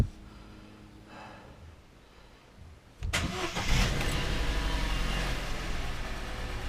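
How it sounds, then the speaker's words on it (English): A 2013 Vauxhall Corsa D engine is cranked and catches suddenly after a few quiet seconds of background noise, then settles into a steady, close idle with a broad mid-pitched running hum, and no one speaks. "So we'll put the cap back on and we'll give it a start."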